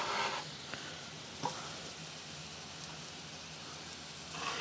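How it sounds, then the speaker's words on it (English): Garlic added to browning shallots in a pan over low heat gives off a faint, steady sizzle, with a few soft clinks and swells near the start and end. "I'm gonna add my garlic."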